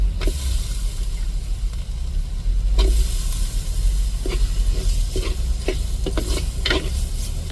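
Masala is stirred in a hot pan of tempering oil alongside potato pieces, giving a steady close sizzle and hiss broken by sharp scraping strokes of a spoon against the pan.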